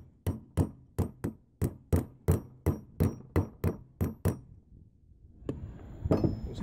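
About a dozen light, evenly spaced taps seat a cover on a 1/2 hp water pump. The close, sharp knocks come one after another, followed by a brief clattering as the pump parts settle.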